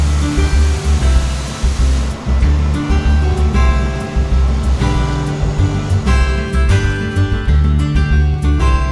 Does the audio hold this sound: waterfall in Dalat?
yes